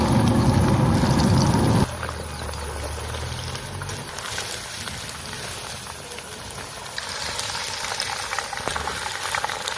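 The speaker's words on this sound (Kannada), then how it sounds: "ಎಣ್ಣೆ ಬಿಸಿಯಾಗಿದೆ. ಈಗ ಅದಕ್ಕೆ ಚಿಕನ್ ಹಾಕ್ತೇನೆ." Loud sizzling of chicken dropped into hot oil, starting strong then settling into a quieter, steady crackle with some stirring.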